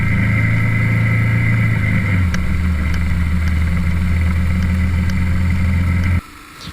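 A BMW R 1100 GS motorcycle rides along a muddy track, its boxer engine droning loud and close with a drop in pitch partway through, then the sound cuts away abruptly near the end.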